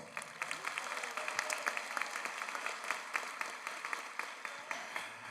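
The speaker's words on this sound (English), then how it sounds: "please give them a round of applause" Steady applause from a large graduation-ceremony crowd for standing guests: a continuous wash of many hands clapping, even in loudness throughout, with no voices over it.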